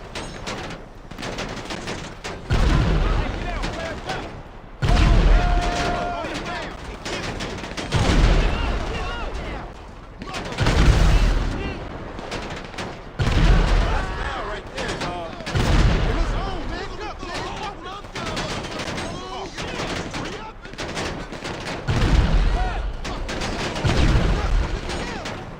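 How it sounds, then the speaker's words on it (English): Small arms gunfire aimed at a tank in GTA 5 Online, with loud repeated bursts of rapid shots and booming impacts coming in waves, alongside game noise and someone talking. "we'll just shoot at the tank with a bunch of small arms and see how far we get with that"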